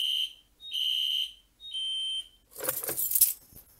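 A fire alarm annunciator sounds three repeated high electronic tones, then falls silent as keys jangle and rattle close by while it is reset with a key.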